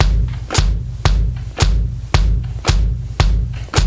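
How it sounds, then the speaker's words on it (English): A drum kit plays a steady beginner beat, the bass drum thumping on every quarter note with hi-hat on beats two and four, about eight even hits close and loud with no talking. "you could play all fourth notes on the bass drum and then just add the hi-hat on 2 and 4"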